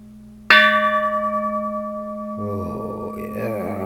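A bronze Japanese Buddhist temple bell is struck once, hard and close, then rings on with a long, slowly fading hum. Faint rustling noise creeps in near the end.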